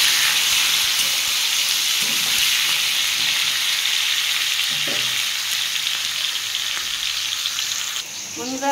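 Potatoes and tomatoes with other vegetables frying in a pan give a loud, continuous hiss and sizzle like steady rain, with faint stirring knocks underneath.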